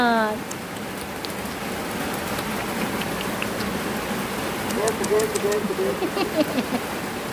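Steady rain falls across an outdoor scene, a broad continuous hiss with scattered drop taps, while people talk nearby and a voice rises over it.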